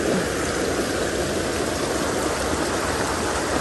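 Floodwater in a big swollen river surges in a constant, dense roar, near and loud throughout, with no talking over it.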